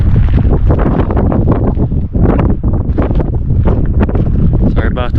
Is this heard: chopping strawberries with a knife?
no